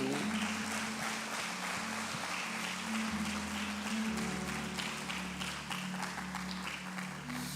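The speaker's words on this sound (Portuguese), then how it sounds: "Aplauda ao Senhor" A church congregation applauds during a Sunday worship service, a broad, continuous clapping texture over a sustained low musical hum, with no talking.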